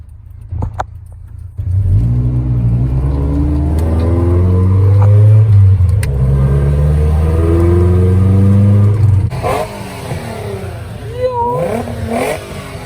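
A Nissan Z32 cruises with its engine droning loudly and steadily, the revs rising gently and holding for several seconds before dropping away as a voice comes in near the end.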